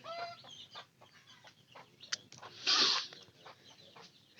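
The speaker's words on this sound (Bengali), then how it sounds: "এই যে আমাদের কানা মুরগি," Farmyard chickens cluck and squawk in short irregular bursts, one louder squawk rising midway, nearby in a quiet rural setting with no talk.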